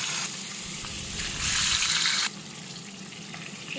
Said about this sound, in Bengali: আমি একটা একটা করে মাছের পিসগুলো তেলের মধ্যে দিয়ে দিচ্ছি।